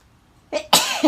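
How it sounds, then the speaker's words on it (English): A single sudden sneeze bursts out after a short quick intake of breath, close and loud in an otherwise quiet space. "oh, I'm going to sneeze."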